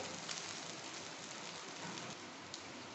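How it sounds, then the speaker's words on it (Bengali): Rice frying in a pan over a medium gas flame, made as a Janmashtami rice offering, gives a steady, even sizzle with no voices. "এবার চালটাকে আমি খুব ভালোভাবে ভেজে নেব।"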